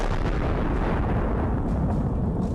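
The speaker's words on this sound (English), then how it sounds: "The attack begins with a targeted strike on one of the positions." Explosion from a targeted strike on a Russian position during an assault, heard as a loud, sustained rumbling blast with dense low-end roar filling the whole moment, no voices.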